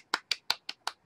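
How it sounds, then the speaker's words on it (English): A handful of light, polite claps in an even, unhurried rhythm, six crisp close-up slaps spaced about a fifth of a second apart with nothing else around them. "golf clap."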